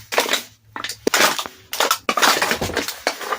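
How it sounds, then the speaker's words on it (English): A bag full of discarded aluminum soda cans is crushed, giving loud crinkling crunches and metallic crackles in several close, irregular bursts separated by brief pauses. "this is a bag full of discarded soda cans, and this will be crushed to make sound effects"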